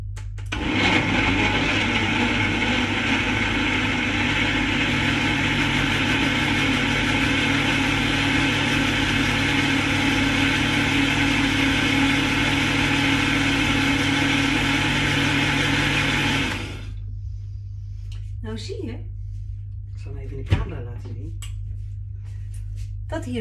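A blender whirs loudly and steadily for about seventeen seconds while a healthy smoothie is made, then cuts off abruptly, leaving quieter speech and small clattering sounds.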